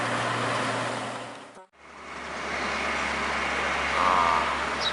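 A SE Halmahera bus pulls into a terminal with a steady, low engine rumble up close. There is a brief dip partway through, then the motor continues under traffic noise.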